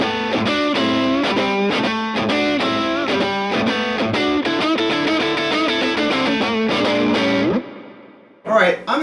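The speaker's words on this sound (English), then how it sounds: "Keeley blues driver 2." An electric guitar played through a Keeley Blues Driver 2 overdrive pedal rings out a melodic line with warm, distorted sustain for several seconds, then cuts off, followed by brief handling noise.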